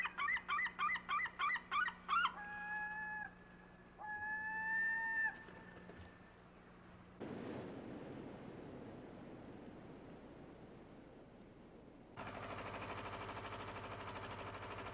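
Gulls call over a fishing village harbour where boats come in from the fishing grounds, a burst of rapid repeated cries followed by longer wailing calls, then surf-like wash and steady background noise.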